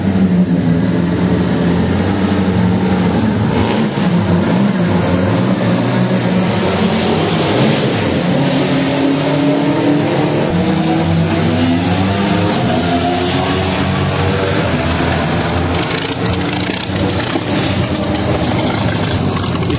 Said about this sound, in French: La Bugatti qui arrive.